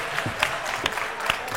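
A brief burst of audience clapping at a Guinean youth debate competition quarter-final, a short patter of claps with a few sharper hand strikes standing out.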